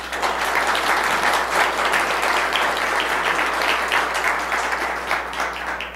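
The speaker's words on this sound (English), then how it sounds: "Please give him a round of applause." Sustained audience applause at a televised attorney general debate as a candidate is introduced, dense clapping from a large seated crowd at steady loudness for the whole span.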